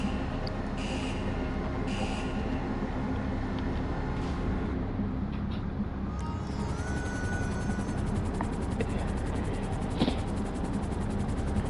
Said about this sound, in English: get in my Sparrow attack helicopter and let's fly over to these smugglers